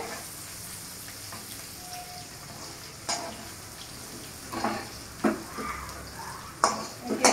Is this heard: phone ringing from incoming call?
no